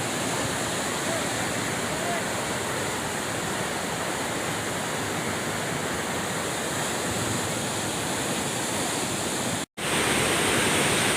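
River water rushes through an open sluice gate in a loud, steady broadband roar, close and unbroken, cut by a brief dropout near the end before resuming; a voice is faintly present beneath.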